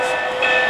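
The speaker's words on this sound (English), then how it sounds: "There's the 1 chuff per revolution." Lionel Reading Consolidation model steam locomotive, sounding a sustained electronic whistle-like tone up close rather than distinct chuffs, steady and loud through the short moment.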